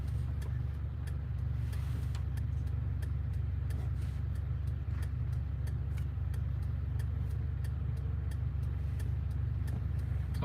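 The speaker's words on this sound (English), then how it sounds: "We should tell that car to pass us." A car's steady engine and road drone while driving on an Ontario road, a constant low rumble with regular ticking clicks, another car following close behind, no voices.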